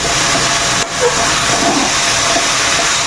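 Chopped cabbage goes into a hot pan for a pasta dish and sizzles in a loud, steady, close hiss, with a brief dip just before the sizzle swells back.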